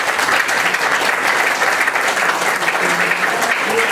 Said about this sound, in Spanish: Quiero pedirle un fuerte aplauso a nuestro maestro.